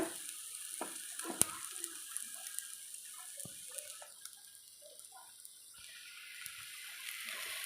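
Vegetable uthappam cooks on a hot griddle, giving a steady soft sizzle with scattered crackles and pops, close and fairly quiet.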